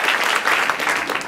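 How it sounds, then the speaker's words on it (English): Crowd applause thanking a longtime Catholic Charities worker for his service: dense, steady clapping close by, with no break across the brief moment. "Let's give him a round of applause and thank him for his service."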